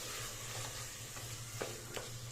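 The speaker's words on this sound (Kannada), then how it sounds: "ಟೊಮೆಟೊ ಎಲ್ಲ ಚೆನ್ನಾಗಿ ಸ್ಮ್ಯಾಶ್ ಆಗಿ ಎಣ್ಣೆ ಬಿಟ್ಕೋಬೇಕು ಅಲ್ಲಿವರೆಗೂ ಚೆನ್ನಾಗಿ ಫ್ರೈ ಮಾಡ್ಕೊಳ್ಳಿ" Tomatoes fry in oil in a pan with a soft, steady sizzle, quiet and continuous, broken by a couple of faint scraping stirs, with no voices.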